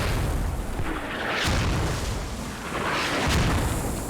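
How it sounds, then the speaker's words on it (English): Mortar shells exploding in the military shooter game Squad, two deep booming impacts about two seconds apart, fairly distant and rumbling over a steady noisy battlefield background. "here comes the mortars"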